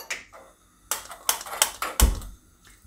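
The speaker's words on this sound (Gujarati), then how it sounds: "ગેસ ચાલુ કરીશું આપણે." Gas stove being switched on under a kadai: several sharp clicks and taps of the knob and igniter, close by and clearly separated.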